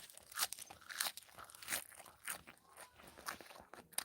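A crisp yellow napa cabbage leaf from a home vegetable garden is bitten and chewed outdoors, giving a run of close, sharp crunches at an uneven chewing rhythm with no talking.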